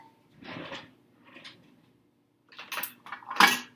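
A spoon scraping and knocking around a bowl of sugar cookie dough, in a few separate bursts of clinking and scraping with short pauses, the last strokes louder and sharper.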